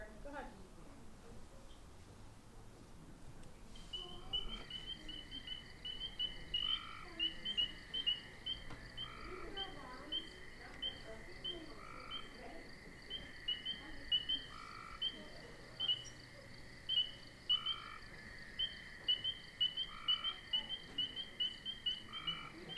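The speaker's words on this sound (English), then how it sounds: "So who's heard a spring peeper before?" Spring peeper frogs call from a wetland in spring, repeated high peeping notes that start a few seconds in and keep coming in an irregular chorus, with other calls and a person speaking underneath.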